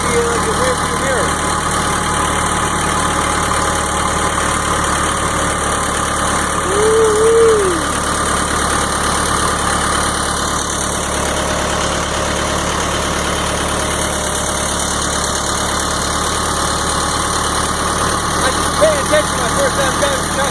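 A tractor engine labours steadily while climbing a steep hill, a continuous loud drone with little change in pitch from start to finish.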